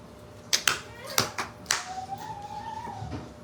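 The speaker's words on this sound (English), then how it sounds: "3 time claps" Three sharp hand claps, close and distinct, spaced about half a second apart, followed by a low murmur and a faint tone in a quiet room.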